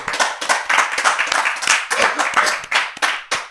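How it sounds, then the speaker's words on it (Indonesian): An audience claps for Professor Yon Mahmudi, a Middle East analyst, on a talk show. The clapping is loud and uneven, with individual hand claps standing out and short gaps between bursts. "tepuk tangan buat Profesor Yon Mahmudi"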